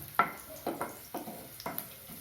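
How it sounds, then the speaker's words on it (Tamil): Minced garlic, ten cloves, sautéing in oil in a pan for a chilli garlic capsicum masala: a handful of distinct scraping clatters from stirring, spaced about half a second apart, over a faint, steady background hiss. "அதை சேர்த்து லேசாக வதக்கணும்"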